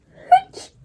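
A single short, sharp sneeze close by, with a quick voiced burst followed by a breathy hiss and a faint tail.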